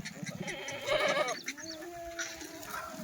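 Kathiawadi goats bleat in a few wavering calls, close but fairly quiet, with faint background noise and no talking.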